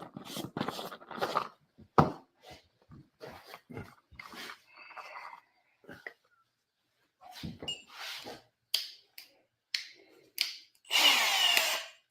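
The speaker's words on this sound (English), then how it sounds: "now I was smart enough to bring the drill" A power drill runs in short bursts with pauses between, while people talk nearby; a longer whir comes near the end.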